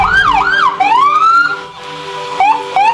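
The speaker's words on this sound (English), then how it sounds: "Call an ambulance, please!" Ambulance siren wailing loudly and close, its rising and falling tones sweeping up and down, then a couple of short yelps near the end.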